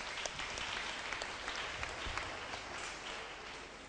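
An indoor seminar audience claps for a few seconds, a steady crowd applause that slowly tapers.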